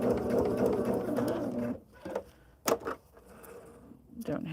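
A sewing machine stitches fabric pieces for a modern sampler quilt, its motor giving a steady, fairly close whir for nearly two seconds before dropping to quiet handling noises and a few sharp clicks.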